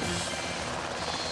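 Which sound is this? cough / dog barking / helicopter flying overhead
helicopter flying overhead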